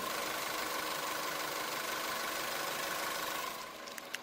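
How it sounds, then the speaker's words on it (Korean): A Chevrolet Spark small car engine idles quietly and steadily with a low, even hum, fading slightly near the end. "엔진 소음 먼저 들려드리면은"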